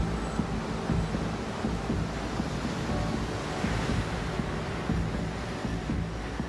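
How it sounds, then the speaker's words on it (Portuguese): High ocean waves crash and roar under strong gusting wind as a hurricane approaches the Ogasawara Islands, a loud continuous surf with steady wind noise and no voices. "As ondas estão mais altas porque um furacão se aproxima da ilha."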